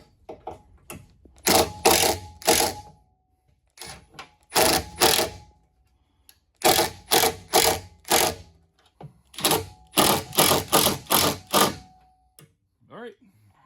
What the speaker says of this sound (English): Now we just gotta tighten everything down.